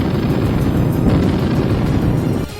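Indian Army artillery cannon firing shells during a military exercise, a loud, continuous, rumbling boom that fills the whole moment without pause.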